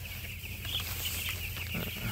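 Plump broiler chickens clucking inside a poultry house. Soft, overlapping clucks over a steady background hum, with no talk.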